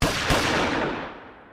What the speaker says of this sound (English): it cuts to black and 2 gunshots are heard